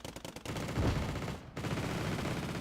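Machine gun fire in the Wargame Red Dragon strategy game, a rattle of rapid bursts at the start, followed by sustained distant gunfire that drops briefly and then carries on.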